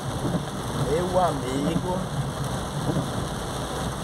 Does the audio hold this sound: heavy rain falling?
yes